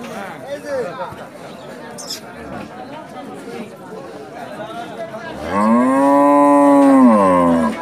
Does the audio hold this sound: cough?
no